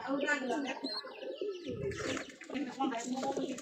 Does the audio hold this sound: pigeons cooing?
yes